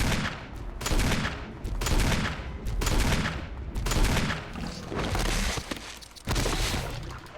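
Magnum revolver shots in Resident Evil HD Remaster, a series of loud, sharp bangs fired in quick succession over several seconds, each ending in a short echoing tail.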